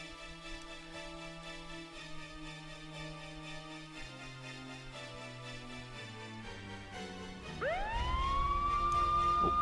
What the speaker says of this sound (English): Where did the siren come from?